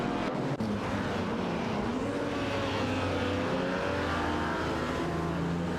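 A Jaguar C-Type and a Ferrari 250 Testarossa, vintage race cars, battle for fourth place, their engines droning loudly and steadily with rising and falling pitch as they run close together on the track, with no voices.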